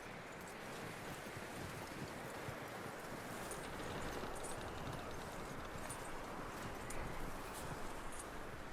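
Horse hooves clip-clopping in the western video game Red Dead Redemption 2, a steady patter of hoofbeats under wind and rustling outdoor ambience, fairly constant in level throughout.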